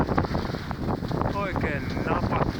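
Strong gusty wind buffets the microphone aboard a sailboat with a steady roar, while faint creaks and squeaks of rigging rise briefly through it.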